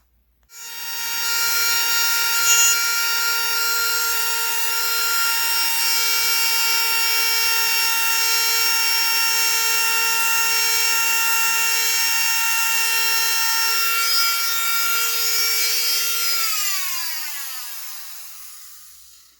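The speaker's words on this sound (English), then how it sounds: "The router attachment for a Dremel tool. Cutting out the notches for the lips on the top plate." A Dremel rotary tool with a router attachment whines at a high, steady pitch while cutting notches into the wooden top plate of a model outrigger kit, then winds down smoothly as it stops.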